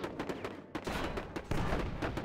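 Soviet guns firing in the real-time strategy video game WWW RTS, a series of sharp booming cannon and gun blasts in quick succession, loud and dense over about two seconds.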